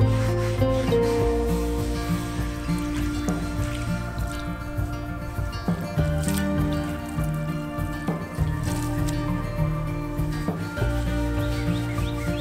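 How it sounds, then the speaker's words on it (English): An 18-inch plow disk discada pan is scrubbed clean with steady rubbing and rasping strokes, close and continuous, with light wet drips and squishes throughout and no talking. "The pan cleaned up super easy with just a little scrubbing."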